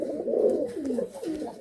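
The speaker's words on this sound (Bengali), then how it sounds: "ওই নরটা ডাকছে না এখন, সাদাটা ডাকছে" A white male pigeon in a loft gives a brief, close, throaty coo in two or three rolling pulses, heard alone.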